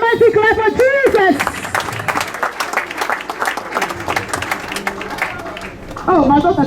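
A church congregation claps loudly in a sustained burst of applause, bracketed by a preacher speaking before and after.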